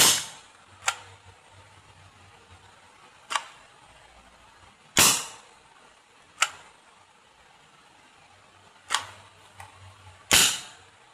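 Sharp, loud pops from a homemade PVC toy gun firing with a siren-valve mechanism, about seven shots spaced irregularly over several seconds, each a crisp snap with a short tail, no talking.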